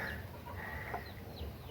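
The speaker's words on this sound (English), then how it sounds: "we have some chickens" Chickens cluck softly at a distance, with a few short calls scattered over quiet outdoor background.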